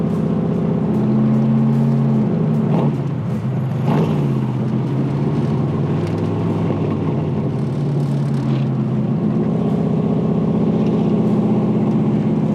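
A 1964 big block Corvette convertible engine rumbles loud and close, a deep steady drone with a couple of brief throttle swells early on.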